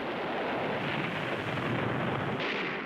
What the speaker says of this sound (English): Gunfire opened up from everywhere